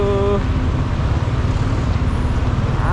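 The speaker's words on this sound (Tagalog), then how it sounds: "Traffic na magayo." Heavy road traffic churns along a busy street, a dense, continuous rumble of engines with a passing horn-like tone at the start and a brief whine near the end.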